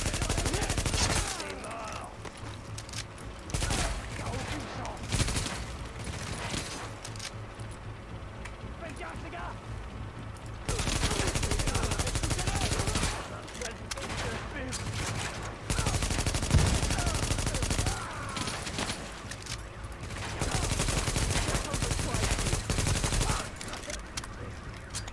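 Sustained automatic gunfire from a firefight in Tom Clancy's The Division, loud and nearly continuous in long stretches with brief gaps, with someone talking over it.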